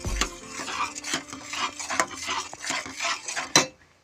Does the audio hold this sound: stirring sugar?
yes